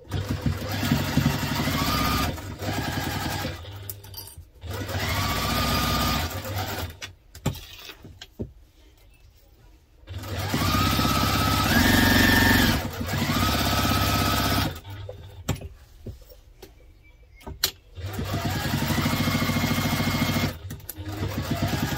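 Domestic sewing machine basting fabric pieces of a sling bag, running in several steady whirring bursts of a few seconds each, separated by short pauses, close and fairly loud with no speech.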